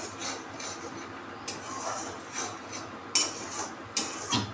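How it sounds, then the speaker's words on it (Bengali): Spice masala for a potato and taro curry is stirred and fried in a pan, with repeated scraping, rubbing strokes and a few sharper utensil clinks against the pan. "ভালো করে মশলাটাকে একটু কষিয়ে নিই। মশলা থেকে তেল ছাড়া পর্যন্ত একটু কষাবো।"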